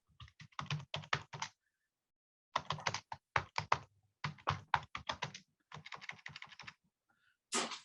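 Rapid bursts of typing on a computer keyboard, close and crisp, with quick clusters of key clicks separated by short pauses and a louder final clack.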